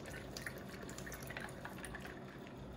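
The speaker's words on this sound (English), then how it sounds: "Look at that pour." An energy drink is poured into a glass as part of a 50-50-50 mixed drink, giving a faint, steady splashing and dripping for a few seconds with no talking.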